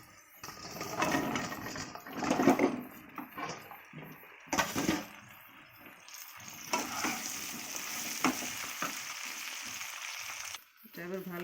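Chopped taro stems fry in a hot pan while being stirred, giving a steady close sizzle broken by scraping stirs and clatter throughout.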